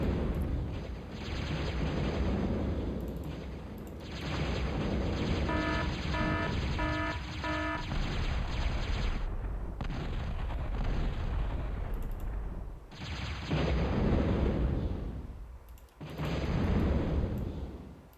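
Zeus units in a strategy video game firing on brawlers, producing dense, rumbling bursts of crackling electric blasts that run in long loud stretches, broken by brief pauses, with a few short beeping tones in the middle.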